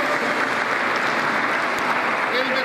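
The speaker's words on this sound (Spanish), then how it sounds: "aplausos." Crowd applause at a patron saint festival in Coronel Moldes; a dense, even wash of clapping that holds steady from start to end.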